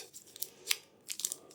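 A small packet of game cards is torn and unwrapped close by: faint, brief crinkles and a few sharp tearing snaps, no talk.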